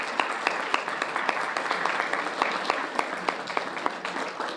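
Audience clapping at an awards ceremony, a steady patter of hands across the whole stretch with sharper individual claps standing out at regular intervals, moderately loud and fairly close, with no talk over it.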